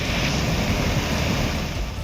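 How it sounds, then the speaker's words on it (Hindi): Floodwater of the swollen Narmada river in Mandla district, Madhya Pradesh, rushes with a current strong enough to carry off a car: a loud, steady, unbroken roar of churning water with no voices. "तेज बहाव अपने साथ एक पूरी कार को बहाकर ले जाने की कोशिश में था।"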